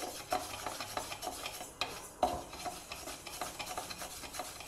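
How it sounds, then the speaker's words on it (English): Yellow moong dal is dry roasted over a low flame in a pan, heard as faint, continuous stirring and scraping with a few sharper utensil knocks against the pan. "This take about 4 tablespoons of yellow moong dal and we will first dry roast it over a low flame."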